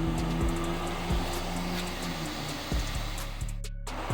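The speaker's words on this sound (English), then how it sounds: "All right, a little bit more vacuuming" A pool vacuum runs on a green swimming pool being cleaned, giving a steady motor drone and whoosh with shifting low hum. A brief dropout comes near the end.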